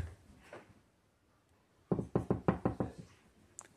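Knocking on a door: a single faint knock, then a rapid run of about seven loud, close wooden raps in quick, even succession, followed by a quiet tap; no talking.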